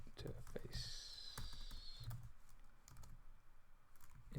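Fingers tap quickly on a computer keyboard, with short bursts of close clicks while a person speaks over the typing and a brief high electronic tone sounds near the start.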